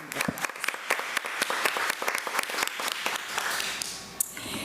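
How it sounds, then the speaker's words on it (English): A school board committee meeting audience applauds a teacher, Ms. Crosby: a room full of hands clapping at moderate volume, with distinct close claps standing out of the steady patter throughout. "Let's give Ms. Crosby another round of applause."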